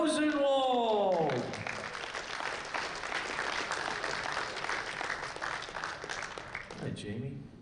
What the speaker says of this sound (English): big round of applause for Mike Rosenwald.